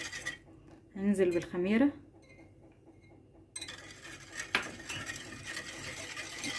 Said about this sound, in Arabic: نقلب السكر لغايه ما يدوب معانا كده.